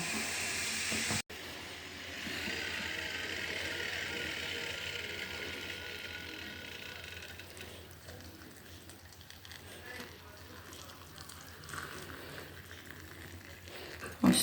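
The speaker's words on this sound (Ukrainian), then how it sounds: "І заливаємо окропом." Boiling water from a kettle pours into a jar over a plant leaf, a soft, steady hissing stream close by that runs on quietly for several seconds.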